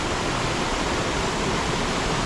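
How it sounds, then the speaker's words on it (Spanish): A beautiful waterfall along a rural path near La Tebaida roars as a steady, dense, loud wash of falling water, close and unbroken, with no voices over it. "Aquí estamos, vean, maravillados con tan hermosa cascada"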